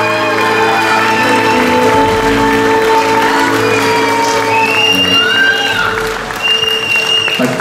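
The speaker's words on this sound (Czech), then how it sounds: "my předáváme stříbrný aplaus pro Klaudii Benišovou" Audience at a Miss Roma beauty pageant gives a contestant a sustained round of loud clapping, with cheers and whoops, while music plays underneath.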